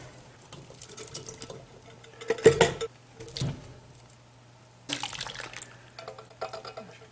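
Drained canned corn, beans and potatoes tipped into a venison stew pot, giving two bursts of wet sliding and splashing with soft clatter, separated by quieter stretches, close and moderately loud.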